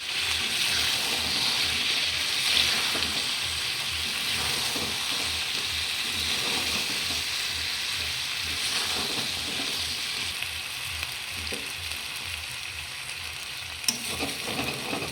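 Country rooster chicken and onions stir-fry in mustard oil with chilli powder, a continuous close sizzle with steady rhythmic stirring and scraping throughout, and one sharper clink near the end.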